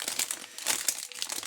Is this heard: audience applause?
no